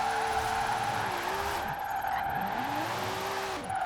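In the Forza Horizon 4 video game, the iconic Mona Lisa car from Tokyo Drift slides sideways with a loud tire squeal, and the engine note rises and falls in sweeping waves as it drifts, with no voices.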